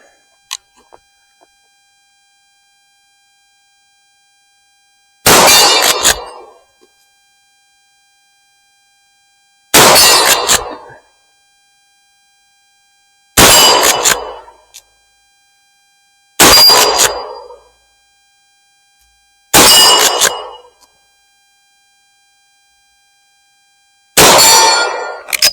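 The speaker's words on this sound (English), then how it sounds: "The 50-yard one, the torso one, makes the loudest clang" Six sharp metallic clangs ring out one at a time at irregular intervals of a few seconds, each with a short ringing decay and silence between, as .44-40 bullets from a Winchester 1892 lever-action rifle strike steel target plates about 50 yards away.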